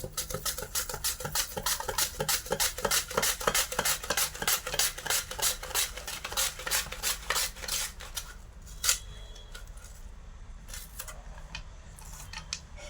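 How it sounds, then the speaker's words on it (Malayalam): Rapid, regular knife chops through onions knock against a cutting board close by, slowing and thinning to scattered taps toward the end, with no talking. "നമുക്ക് ഈ സവാള ഒന്ന് അരിഞ്ഞെടുക്കാം"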